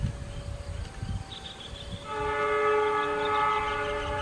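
Cikuray train passing near Pasar Senen with a low rumble, its multi-tone horn sounding steadily and loudly through the second half over the rolling noise.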